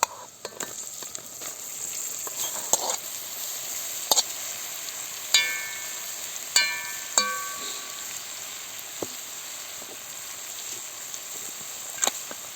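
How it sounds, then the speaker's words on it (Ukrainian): Onions and mushrooms sizzle in a frying pan, a constant soft crackle broken by several sharp clinks and scrapes of a utensil against the pan, close up with no talking. "Цибульку підсмажуємо до золотистого кольору, а запах а пахне і кидаємо гриби"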